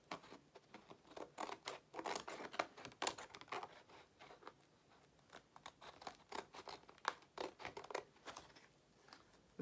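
Scissors snip through thick, sturdy paper for a Christmas tag in a steady series of crisp, close cuts, quiet and continuous with no talking.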